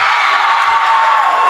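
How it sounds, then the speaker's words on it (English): Boys' junior varsity team cheering from the stands at a high school basketball game, a steady continuous roar of many voices with shouts and whoops, close and loud throughout. "the JV boys are cheering on the FHS team"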